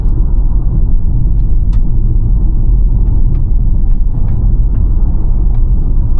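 A Kia EV5 Earth 2WD electric SUV accelerates hard uphill, giving a steady, loud low road and tyre rumble with a few faint high ticks and no talk.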